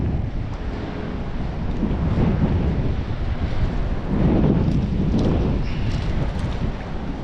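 Strong wind buffets the microphone outdoors near water in a steady, loud rumbling roar with gusty swells, and no voices.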